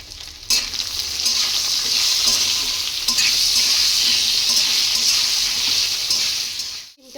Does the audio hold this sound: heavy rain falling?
no